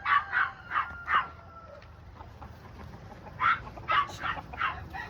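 Farm dogs let out a few short barks near poultry, in two clusters separated by a quiet pause, fairly faint against the background.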